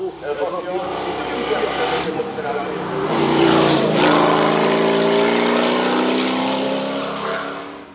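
A Volvo race car engine roars at a hill climb, a loud, building rev that sweeps upward as it passes close by, with a commentator's voice talking over it.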